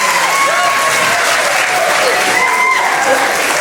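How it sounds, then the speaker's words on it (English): Wedding mehndi and welcome party audience applauding after singing and speeches, a steady, dense wash of clapping from a crowd with some tonal voices or music lines riding over it throughout. "please give them a big round of applause"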